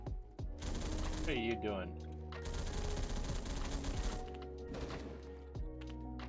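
An HK-51B rifle in Phantom Forces fires long sustained bursts of rapid automatic gunfire, loud and close, with short gaps between strings, and a voice speaks briefly near the start.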